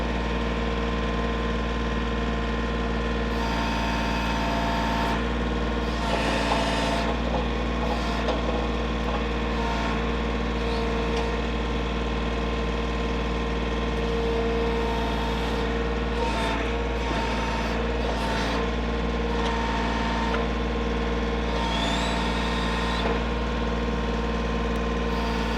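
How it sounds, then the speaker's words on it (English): A backhoe engine runs steadily as a low continuous drone, with faint knocks and clanks rising over the hum now and then. "he's taking a turn at the backhoe."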